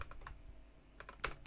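Quick, light keystrokes on a computer keyboard while an HTML form is coded for a PHP tutorial, a steady run of close clicks with a denser burst near the end and no talking.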